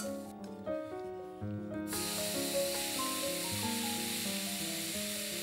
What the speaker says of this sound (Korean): 목이버섯은 기름을 두르고 소금간도 하면서 볶아줍니다